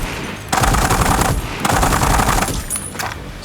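Loud bursts of automatic gunfire come from the VR game Arizona Sunshine 2, played with a Provolver Elite gunstock. Two long sustained volleys are followed by shorter bursts, all close and dense, with no talking.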